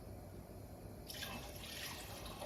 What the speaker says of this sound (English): I'm going to add some water to that.